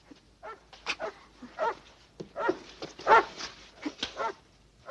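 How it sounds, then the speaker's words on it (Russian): A dog barks and whimpers in short yelping bursts, several close calls spread across a few seconds with brief pauses between them. "А вдруг собака сорвется?"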